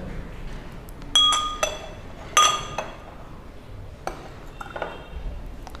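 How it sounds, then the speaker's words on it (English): Small glass beaker of oil set inside a large glass beaker, several bright glassy clinks and pings in two main clusters, then lighter taps, close and clear with no talk. "slowly put it inside that large beaker"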